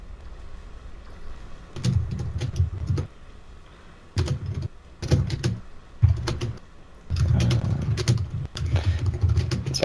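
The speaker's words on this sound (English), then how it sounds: "Sorry for typing." Clicky computer-keyboard typing in quick bursts of keystrokes with short pauses, up close and fairly loud, during a Dota 2 International 2016 Europe qualifier broadcast, with no talk over it.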